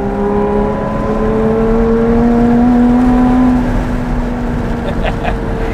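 A Lotus Evora 400 engine drones steadily from inside the car while driving, its tone slowly climbing as revs rise, a continuous smooth hum with road noise underneath.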